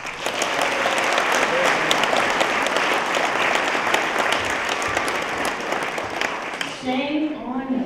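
Applause from the audience at a music festival venue, a loud, dense, sustained round of clapping from a sizable crowd that tapers at the end as a voice starts to speak.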